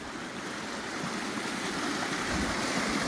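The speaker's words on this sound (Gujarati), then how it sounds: "કેવું પાણી જાય છે, એકદમ તાજું પાણી જાય છે" A fresh hill stream near a village rushes steadily with a broad, continuous hiss, close by and constant throughout, no voices.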